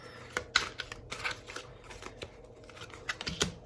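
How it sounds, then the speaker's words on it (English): Tarot cards are shuffled by hand in quick, irregular riffles and soft flicks, close and fairly quiet, with no talk. "Just to let you know, I am shuffling these"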